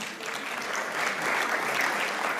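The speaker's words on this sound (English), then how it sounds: "Big round of applause to you." An audience at a United Nations meditation day gathering applauds briefly, a dense even wash of many clapping hands, moderately loud and unbroken.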